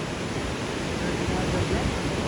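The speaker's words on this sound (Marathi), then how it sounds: "आता लय मोठ्या लाटा लांब यायला लागल्या" Large ocean waves break at the seashore, a dense, continuous roar of surf that washes evenly across the moment, close and fairly loud, with no distinct voices.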